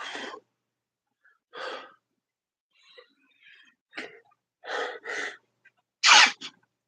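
A string of short, sharp bursts from one person, sneezes or coughs, separated by quiet gaps, with one final loud burst.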